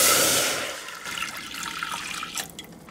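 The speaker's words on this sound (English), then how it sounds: "we're gonna add water in the steamer." Water gushes loudly into a steamer while making red bean soup, then thins to a softer trickle and splashing with a few drips, close by and with no talk.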